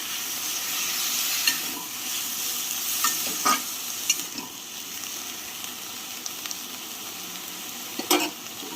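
Ground shrimp shell paste with green chilli fries in a pan, a steady close sizzle punctuated by sharp clinks and scrapes of stirring.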